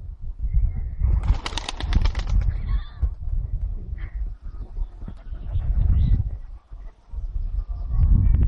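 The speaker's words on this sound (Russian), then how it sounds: "Голубиная свадьба." Pigeons coo in low rolling murmurs close by, with bursts of flapping wings and rustling during a pigeon courtship display.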